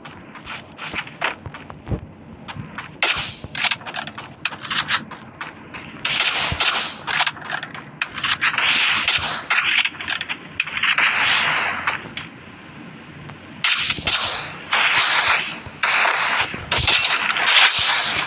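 Gunfire in the Free Fire mobile battle game during a one-versus-one headshot match, loud bursts of rapid shots with metallic clangs and pings, broken by brief pauses.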